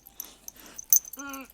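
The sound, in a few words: small brown dog whining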